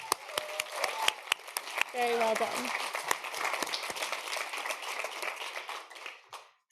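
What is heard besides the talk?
audience applause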